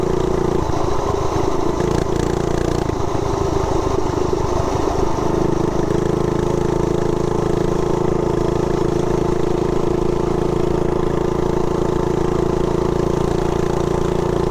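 Harley-Davidson Softail motorcycle pulling away on light throttle, a steady close engine drone with a rough, lumpy rumble early on settling into an even ride.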